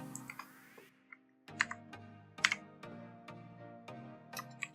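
Quick bursts of typing on a computer keyboard, crisp close key clicks in short irregular clusters with brief pauses between.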